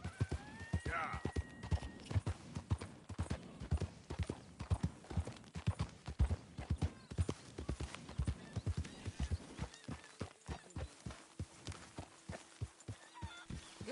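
In Red Dead Redemption 2, a horse's hooves clip-clop in a steady, loud rhythm throughout, with a brief whinny near the start, and voices are heard over the hoofbeats.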